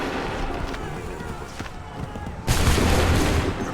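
A volley of muskets fires in the video game Assassin's Creed III: one sudden loud crackling blast rises over a continuous battlefield din, with voices in the mix.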